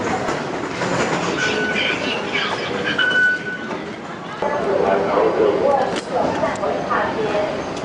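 A Taipei metro train in Taiwan rattles along with clattering wheels and brief metallic squeals, while people talk over the noise.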